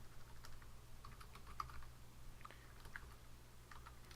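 Soft, rapid typing on a computer keyboard while entering a search, faint scattered key clicks over a low steady hum.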